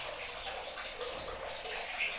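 Shower running in a hotel bathroom at Sonya's Garden in Tagaytay, a steady hissing spray of water, fairly faint and continuous.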